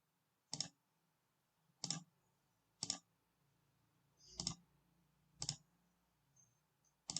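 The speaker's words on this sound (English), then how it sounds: "Select and click on the each component and connect." Six sharp, evenly separated computer mouse clicks while wiring up diode circuit components in LTspice, each a crisp isolated tick against near silence.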